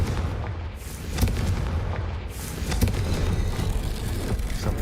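Spell blasts from the fire spell Confringo in the game Hogwarts Legacy: a few dull booming impacts over a dense, noisy rumble, moderately loud, with no talking.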